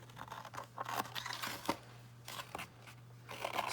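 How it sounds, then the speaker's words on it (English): Paper is cut out into a shape for a mixed media art piece, with close, irregular crisp snips and crinkling rustles, quiet and uneven. "Now I want to cut it out."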